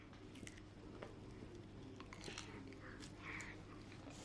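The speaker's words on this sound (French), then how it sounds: "Tu mâches." A baby chewing food: soft, wet chewing and small crunching sounds up close, quiet and irregular, with faint background hum.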